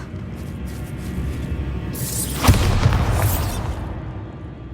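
Spell explosion from the Bombarda charm in Hogwarts Legacy: a sharp booming blast bursts out near the middle, followed by a rushing, crackling tail over steady background game ambience.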